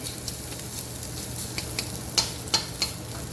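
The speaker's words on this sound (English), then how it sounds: "we finished toasting that garlic" Garlic toasting in a pan for shrimp and ham fried rice, a soft continuous sizzle with a few faint stirring scrapes and brief clinks, fairly quiet and without speech.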